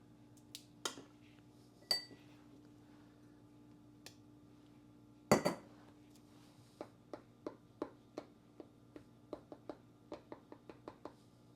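Cranberry sauce ladled into glass canning jars, with a run of small, sharp clinks and taps that quicken toward the end over a steady low hum, plus a few louder knocks early on.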